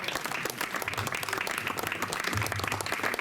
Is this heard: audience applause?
yes